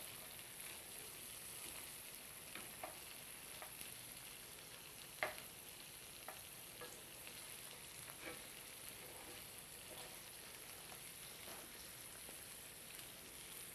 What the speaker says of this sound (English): Now we want to go ahead and put our hearts and our livers in. Let them cook up in there.